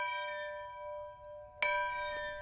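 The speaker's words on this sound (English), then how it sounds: "The plantation bell was used to wake the workers." A plantation bell at a historic farm settlement rings with a sustained metallic tone, then is struck again for a second bright, near, ringing clang that hangs in the air.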